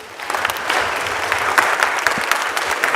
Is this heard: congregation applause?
yes